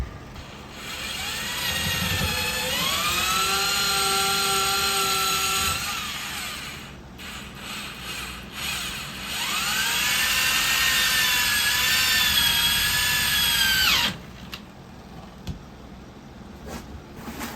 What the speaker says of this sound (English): Did you just drill right through that too?